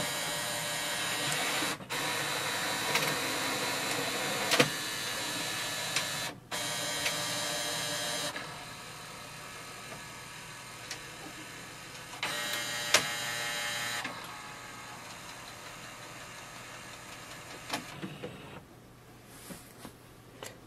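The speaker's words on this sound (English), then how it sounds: "click this blue icon and it will start the scanning process" An HP OfficeJet Pro 9010 printer scans a page with a steady mechanical whir in long stretches, broken by sharp clicks and pauses, with no voices over it.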